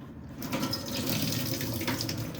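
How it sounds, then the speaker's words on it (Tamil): Rice being washed in water in a home kitchen before making mutton curry, heard as a steady close splashing and running-water wash, moderately loud and continuous, with no talking. "இப்போ அரிசி கழுவுறாங்க"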